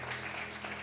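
Applause from a church congregation at a Sunday morning worship service, a steady wash of many hands clapping that fills the room evenly for the whole moment.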